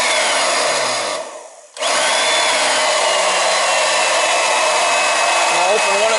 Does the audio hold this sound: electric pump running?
yes